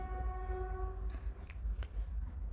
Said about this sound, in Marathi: तर हा आवाज येते तुम्हाला हा आमच्या इथनं रेल्वे रूट आहे